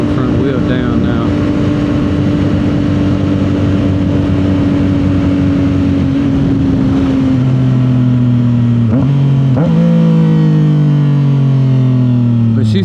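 A 2025 CFMOTO 675 SS motorcycle fitted with a new full exhaust roars loudly while riding, the engine note holding steady then dropping and climbing again through gear changes, close and continuous.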